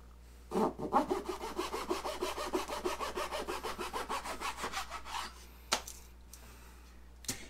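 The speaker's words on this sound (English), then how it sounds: "Now I can take my zona saw and make my cut." A Zona saw cuts through hardwood with about two dozen quick, even back-and-forth strokes, close and clear, then stops, followed by a couple of light taps.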